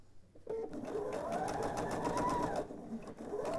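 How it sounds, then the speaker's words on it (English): A sewing machine stitches quilt pieces together in a steady, continuous run after a brief quiet start, close and clear, slowing near the end. "And then sew to the end of our piece."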